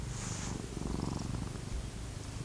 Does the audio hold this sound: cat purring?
yes